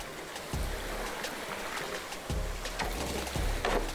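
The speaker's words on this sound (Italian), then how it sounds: "Siamo caduti in acqua." A skateboarder falls into water in the video game OlliOlli World: soft splashy, watery bursts recur over steady game ambience, with no voices.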